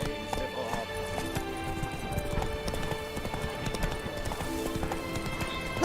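Horse hooves gallop in steady rapid clip-clop in The Witcher 3, running continuously under game music with occasional voice.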